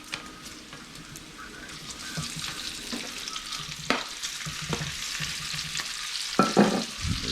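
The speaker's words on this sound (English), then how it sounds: "I'm gonna go ahead and put this sausage in with it and start browning that up too" Bacon and sausage fry together in a pan at home, giving a steady close sizzle and crackle with occasional louder spits and pops.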